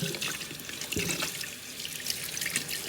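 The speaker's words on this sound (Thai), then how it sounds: "เปิดน้ำล้างทูออกจนให้มันใจว่า สะอาดแล้วนะจ้ะเนาะ" Tap water runs steadily into a sink while mackerel are rinsed under it, a continuous close splashing and trickling wash with occasional brief clatters and no talking.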